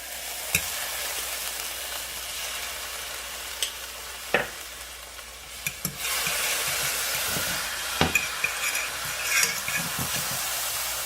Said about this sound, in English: I'm gonna start adding some minced garlic